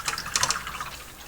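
A paintbrush swished and rinsed in water after painting with Reaper Master Series HD paints, producing a brief burst of close, light splashing and dripping that fades within a second.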